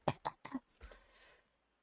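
Three sharp, close coughs in quick succession, followed by a rougher throat-clearing rasp that trails off into quiet.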